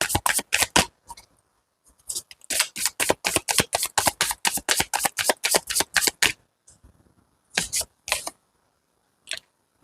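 Tarot cards are riffled and shuffled in quick, crisp bursts, a fast rhythmic run of flicks with a short pause, then a few separate snaps as cards are drawn, close and clear with no talking.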